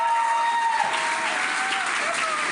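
Audience applause for a staff awards team called to the front, steady broadband clapping filling the short moment at moderate loudness, with a voice faintly audible underneath.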